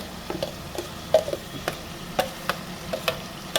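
A spoon stirs a freshly ground cashew, almond and green chilli paste into white chicken gravy inside a pressure cooker, giving soft scattered scrapes and light taps against the metal pot, with a faint background hiss and no talking.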